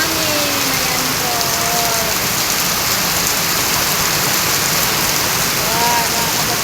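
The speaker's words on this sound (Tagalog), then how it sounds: "Lakas po ng ulan sa amin." Heavy rain pours down steadily with strong wind, a loud dense wash of drumming on surfaces throughout, with faint voices in the background.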